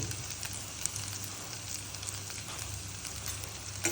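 Asafoetida sizzles softly in hot oil for a tempering, a steady, gentle crackle with a few tiny pops.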